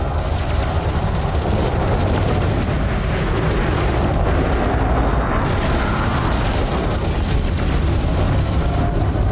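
A federal dropship explodes in the space game Elite Dangerous, a sustained, loud, roaring blast rumble that holds steady throughout with no pauses.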